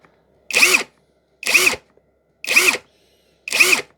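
A Litheli U20 brushless impact driver in bolt mode runs in four short whirring bursts of under a second each, evenly spaced with silence between, close and loud with no talking.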